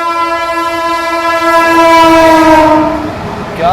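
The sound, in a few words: Jharkhand Swarna Jayanti Express train honking as it passes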